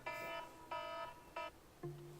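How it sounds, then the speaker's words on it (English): An alarm clock going off in a room: three evenly spaced electronic beeping bursts, then a lower tone, fairly quiet and heard alone. "My alarm went off, that's rude."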